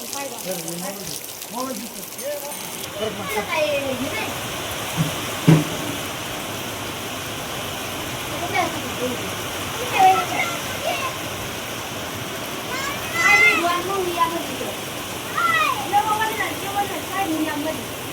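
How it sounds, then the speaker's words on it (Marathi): Heavy rain pours down in a dense, constant wash with splashing water nearby at a farm where maize is being planted. A voice talks over it at intervals. "बघा 5-10 मिनिटं झाली पाऊस येऊन आणि किती पावसानं पाणी पाणी केलं"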